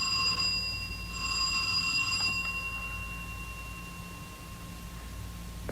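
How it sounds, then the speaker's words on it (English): A bright electronic chime rings out at the start, then its steady tone lingers and fades slowly in a quiet room. "That's your doorbell ringing."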